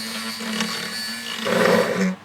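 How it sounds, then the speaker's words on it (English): A small power drill whirs steadily at close range, its motor pitch rising briefly as the bit bites into wood, drilling a tiny pilot hole, before stopping. "Now I'm going to drill a tiny little pilot hole."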